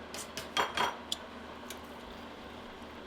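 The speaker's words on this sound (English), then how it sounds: "Give that a nice stir." A spoon clinks against a pot while cream cheese is stirred into rice pudding on the stovetop, giving a few short scraping knocks near the start and then near silence.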